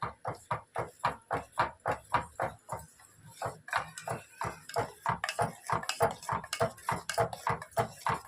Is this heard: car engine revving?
no